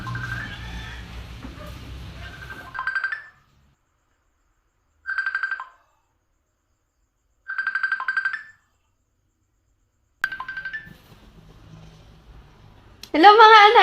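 A phone ringing in a Christmas short film while calling a mother, repeated electronic ring tones in evenly spaced bursts separated by silence, with a voice heard at the start and later a louder sound at the end.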